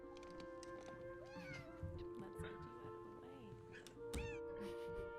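A cat meows several times in a row, close by and moderately quiet, while a person talks softly underneath and a faint steady hum sits in the background.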